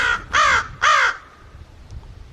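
Three loud, harsh caws from rescued crows in quick succession, close by, followed by quiet background.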